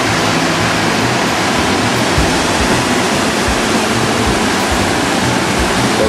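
The biggest rapids on the Katun river roar as a loud, continuous, dense rush of churning whitewater, steady throughout and heard close with no talking.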